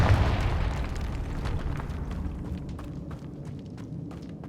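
A Confringo fire spell blasts in the Hogwarts Legacy video game, a loud booming explosion at the start that decays into a crackling, rumbling tail.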